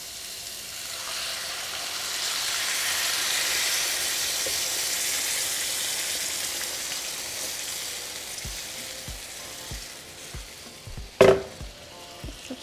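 Chicken frying in a pan before chipotle sauce goes in, a steady broad sizzle that swells and then eases, followed near the end by a few sharp utensil clinks and a louder clatter; no one speaks.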